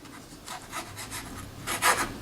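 Knife slicing fresh asparagus spears into quarter-inch pieces on a cutting board for a shrimp and cheese omelet, a run of soft close chops and rubbing scrapes, the last few cuts a bit louder, with no talking.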